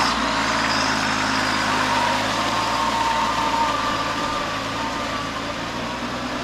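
A Kubota B2441 four-wheel-drive mini tractor with power steering runs its engine at a steady, loud idle. The drone is close and continuous, with no voices.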